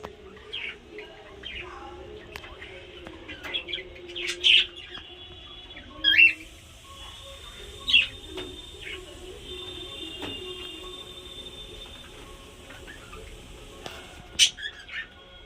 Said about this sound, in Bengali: এই আমার ককটেল পাখি।